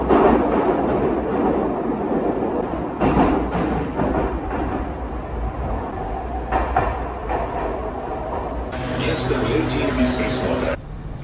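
A metro train in a Russian subway station rumbles and clatters loudly nearby, with rolling wheel noise, brief metallic squeals and a rising hiss toward the end, while people talk underneath.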